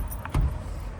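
A brief, close metallic jingle of keys, with a soft thump, over a low background rumble.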